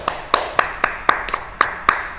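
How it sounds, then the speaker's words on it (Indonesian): A small group claps for a student in an online class, about eight sharp, evenly spaced claps, close and fairly loud, with no talking over them. "Kasih tepuk tangan buat Mas Epung."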